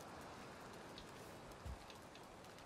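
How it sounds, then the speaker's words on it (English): Steady rain falls in a video game, a dense even hiss of drops on surfaces with one brief low thump partway through; no one speaks. "Good timing, it's raining now."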